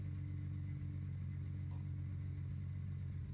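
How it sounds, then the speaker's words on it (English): A truck engine idles in Gold Rush: The Game, a steady low rumble with a faint mechanical clatter that runs unbroken and alone throughout. "This time I'll go ahead and shut the truck off"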